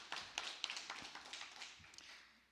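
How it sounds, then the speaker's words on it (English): Conference audience applauding in an auditorium, a soft spread of many hands clapping at moderate distance, steady for a couple of seconds then gradually fading. "let's give them a round of applause"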